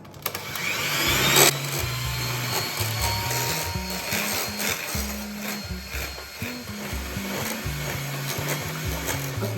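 Electric mixer beating eggs for molten lava chocolate cake batter, a close, steady motor whir with shifting pitch and rattling knocks of the beaters against the bowl, no speech.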